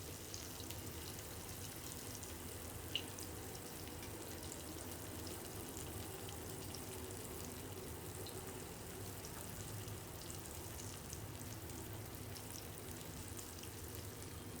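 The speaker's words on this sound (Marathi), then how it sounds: "हे पहा, अशा पद्धतीने मी अलगद सोडते येते तेलात." Fish pieces frying in hot oil over lowered heat, a constant dense sizzle and crackle at an even level for the whole stretch, with one brief tap near the start and no voices.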